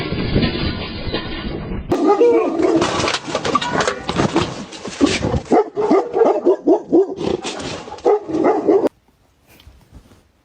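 A dog barks and yips repeatedly in a loud, busy burst of sound lasting most of the stretch, then falls abruptly quiet near the end.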